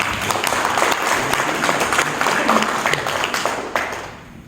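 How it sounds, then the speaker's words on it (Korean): An audience at a Korean breakfast lecture gives a big round of applause, a dense, loud and steady wash of clapping that carries on the whole time before easing slightly near the end. "크게 한번 박수 한번 주세요."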